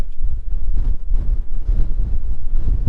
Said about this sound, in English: That breeze is starting to blow.